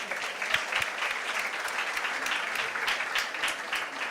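An audience at an Africa Forward gathering in Nairobi breaks into sustained applause, a dense wash of many hands clapping with a few crisp claps popping out, steady throughout.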